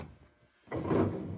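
A drawer of an antique marquetry secretary slides open after a brief quiet moment, producing a close, muffled wooden scraping rush that lasts under a second.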